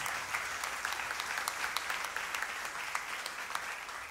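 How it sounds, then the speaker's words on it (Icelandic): An audience at the 2013 Reykjavik Drumshow applauds a drummer with steady, dense clapping that fills the whole stretch at moderate distance, with no talk over it. "gefum Ingó aftur gott klapp"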